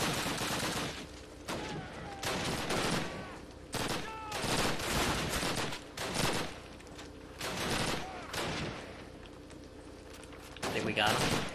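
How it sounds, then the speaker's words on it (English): Bursts of automatic gunfire from the World War II shooter Call of Duty crackle in repeated rapid volleys, loud and close, with pauses between them, while players talk over the shooting. "you were like firing a gun, but no animation"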